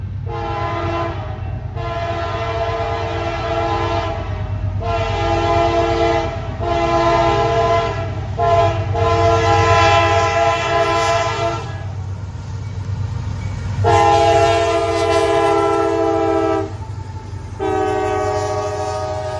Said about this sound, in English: the southbound intermodal train, flying through here like a shooting star at about 50 to 60 miles an hour